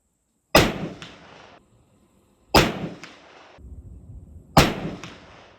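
Harvester Scorpion air rifle firing three Fire Star pellets outdoors, three loud sharp cracks about two seconds apart, each with a short ringing tail and silence in between.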